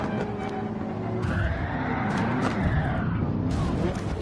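A race car braking hard in the video game Gran Turismo 7, engine roaring and winding down as tires squeal and scrub, loud and continuous throughout.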